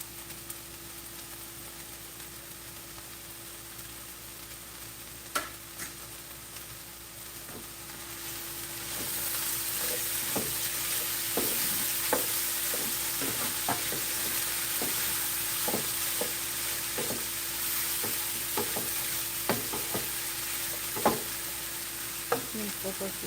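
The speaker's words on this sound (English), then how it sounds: "I'm making minced fried rice." Minced fried rice is stir-fried in a pan, a soft steady sizzle punctuated by scattered clicks and scrapes of the utensil stirring, growing a little louder midway.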